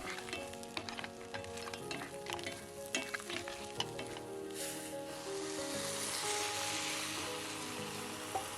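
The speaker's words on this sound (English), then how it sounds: "the rice is stirred around for a minute, lightly toasting it and allowing it to absorb the flavors" Rice grains crackle and sizzle in a hot pan while stirred and toasted for Spanish seafood rice, with scraping bursts early on and a steadier sizzle later.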